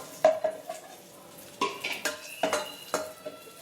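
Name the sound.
cashews and raisins frying in ghee in a pan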